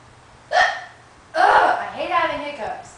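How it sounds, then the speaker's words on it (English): Sharp, abrupt hiccup-like gasps from a person, one short burst followed after a pause by a longer voiced run of hiccups mixed with breathy vocal sounds, loud and close. "I hate having hiccups!"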